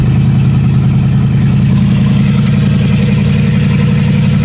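A 1977 Pontiac Grand Safari station wagon idles with its exhaust disconnected, a loud, steady low rumble with an even throb running throughout, close by and alone with no talking.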